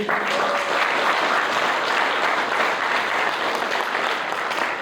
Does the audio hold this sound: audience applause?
yes